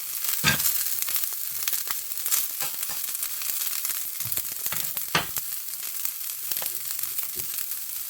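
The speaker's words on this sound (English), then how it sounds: "gonna toss these onions on there. Just a few to add some flavor." Onions sizzling in a Smithey Farmhouse cast iron skillet, a steady close frying hiss broken by sharper pops and crackles as pieces hit the hot pan.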